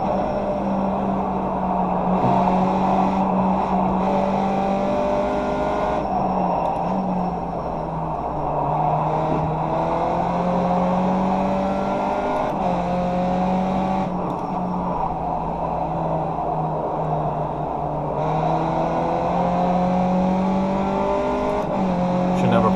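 Race car engine in the iRacing sim at Circuit Park Zandvoort, droning steadily with repeated rising upshift sweeps and dips for corners over twenty seconds, while a driver talks over it.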